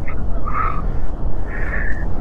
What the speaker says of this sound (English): Oh, the geese are fucking assholes.